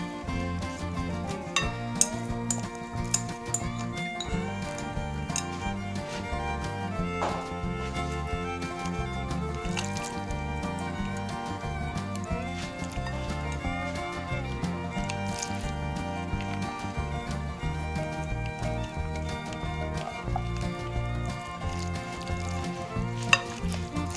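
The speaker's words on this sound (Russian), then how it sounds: "Все нужно хорошенечко перемешивать" Chicken, potato and other kurnik filling ingredients are mixed together in a bowl, with continuous close squelching and stirring clatter, soft wet squishes and occasional utensil knocks over a long, steady stretch.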